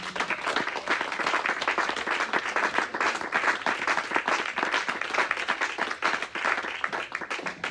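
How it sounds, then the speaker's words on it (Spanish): A church congregation at a Spanish-language evening service in Panorama City claps loudly and continuously, a dense, sustained round of applause filling the room without pause. "Le damos un fuerte aplauso al Señor."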